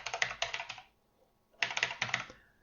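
Close, crisp keystrokes on a computer keyboard come in two quick bursts of rapid typing separated by a brief pause.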